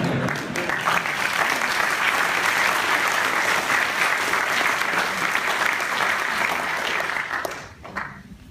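Full audience applause at a physics colloquium on the Nobel Prize, a dense, even wash of clapping held for several seconds before it tapers and dies away abruptly near the end.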